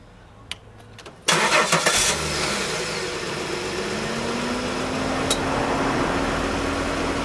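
A car engine cranks and catches after a quiet start, then settles into a steady running hum that rises slightly in pitch, close and fairly loud with no talking.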